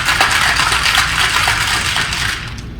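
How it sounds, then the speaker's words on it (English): Ice cubes are poured back and forth between two glasses while chilling them for a chocolate martini: a loud, close, continuous rattling clatter of ice against glass that eases off near the end. "you can just pour the glass with ice into the one without"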